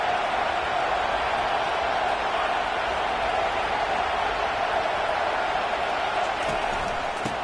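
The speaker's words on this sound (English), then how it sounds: "Decibels rising as the crowd gets behind this defense on third down." A steady stadium crowd roars as one continuous wash of cheering noise in an NCAA football video game, loud and unbroken throughout.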